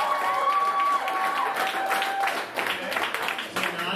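Comedy club audience applauding in a show of hands by applause, a dense wash of clapping from the crowd that holds steady and then thins slightly, with a brief tonal whine early on and some crowd murmur underneath.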